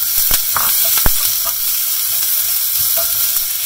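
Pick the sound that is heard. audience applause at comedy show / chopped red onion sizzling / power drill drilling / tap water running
chopped red onion sizzling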